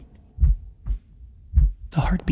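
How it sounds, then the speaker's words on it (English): Slow, muffled heartbeat thumps repeat about three times at an uneven pace, deep and soft, before a brief breathy burst at the end. "But for many minutes, the heartbeat"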